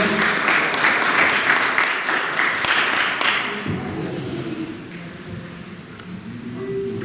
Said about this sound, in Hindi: जोर से ताली बजा देंगे सब लोग।